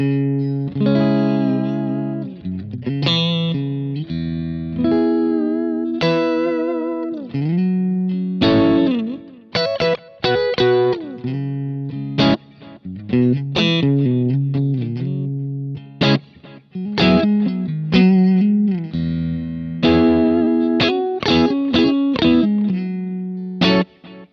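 Clean electric guitar plays chords and short melodic phrases through a Kemper amp profile, bright and clear with light shimmer, no other sounds.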